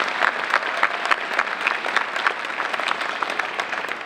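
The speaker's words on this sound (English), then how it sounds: "Please give them a round of applause." An indoor audience at an evening scholarship awards program applauds sponsors, a dense, steady burst of clapping from many hands throughout, moderately loud and without voices over it.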